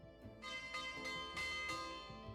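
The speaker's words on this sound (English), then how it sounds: "Lunch bell." A lunch bell rings out with repeated rich, resonant strikes at a steady rhythm, the tones overlapping and sustaining loudly throughout, with no talk.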